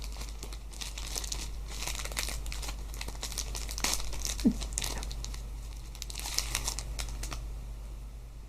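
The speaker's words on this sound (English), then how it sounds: "Plastic bags." A plastic snack bag from a Japanese Sakuraco snack box is handled up close, giving continuous crisp crinkling with sharper crackles and rustles throughout and no talking.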